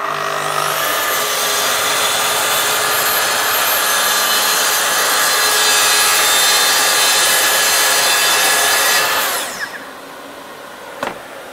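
A saw cuts through a wooden dust hose guide in a workshop with a loud, steady rasp close by. It runs for about nine seconds, then stops abruptly, leaving quiet with a single faint knock.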